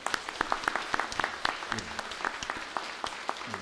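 A church congregation at Sunday worship claps to welcome a newly appointed pastor, giving light, uneven applause with distinct individual claps. A voice can be heard briefly under the clapping.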